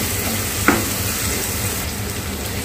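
Soy sauce added to a pan of frying chicken sausage with pepper, a brief splash over a continuous close sizzle and light stirring.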